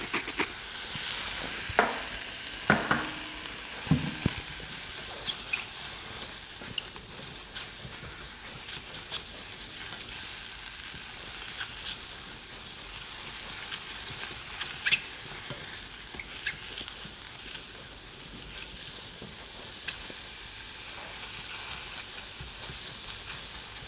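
Mushrooms seasoned with salt and black pepper fry in a pan, giving a steady close sizzle with occasional crackles and stirring scrapes near the start, continuous and unbroken with no talking.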